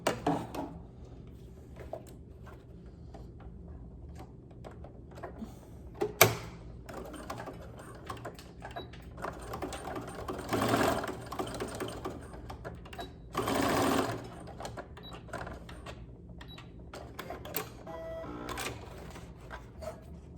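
A sewing machine stitches two diagonal lines across an elastic waistband. Close rapid bursts of stitching are broken by brief pauses and a few sharp clicks.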